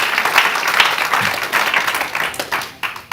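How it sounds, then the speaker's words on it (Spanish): A church congregation claps together in applause for several seconds: dense, steady clapping that swells and dips slightly, with no voices over it. "¿Usted le quiere dar un fuerte aplauso a la palabra de Dios?"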